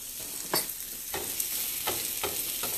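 Pasta primavera with vegetables is stirred in a pot over medium heat, close scraping strokes coming roughly every half second over a soft constant sizzle.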